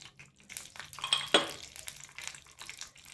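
Crushed peeled garlic dropped into hot oil for a Kannada-style tempering, giving a brief crackling sizzle with a sharp burst mid-clip amid light pan and utensil clatter, close and moderately loud with no talking.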